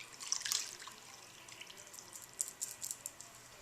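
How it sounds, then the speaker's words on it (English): Water drips and trickles faintly into a bath as a washcloth is wrung out, scattered soft splashes in a quiet room. "I wet it into the water and I wring it out really good."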